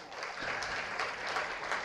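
A round of applause from the audience at an inauguration function, many hands clapping in a continuous, fairly faint wash with no talk.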